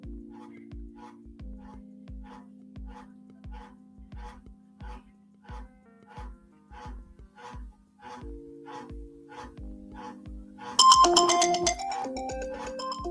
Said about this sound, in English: my fucking notifications were loud as shit